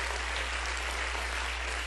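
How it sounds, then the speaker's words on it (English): A dense, steady wash of crowd applause at a Hillary Clinton campaign rally in New Hampshire, sustained and fairly distant, with no voices standing out. "And I join in the applause"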